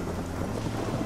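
Steady heavy rain with low thunder rumbling in the Amazon rainforest, a dense continuous wash of sound with no voices.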